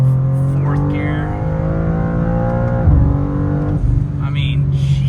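A tuned 2024 BMW M2 accelerates hard in fourth gear, its engine note climbing steadily in a loud rising drone, with gear-change dips near the middle and the end, heard from inside the car.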